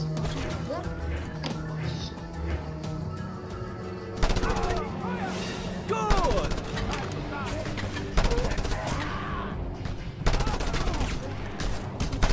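In the video game Just Cause 2, gunfire from a mounted gun and other weapons comes in rapid bursts, with loud automatic fire and heavy impacts over continuous battle noise and faint voices.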